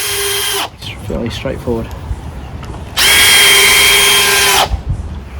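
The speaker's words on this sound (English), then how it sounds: "once you're pre-drilled, just, give it a bit of a burr, and then you just screw them in" Power drill driving screws into pre-drilled reclaimed timber for a raised garden bed, with loud whirring bursts, a long steady run near the end, and brief spoken words between.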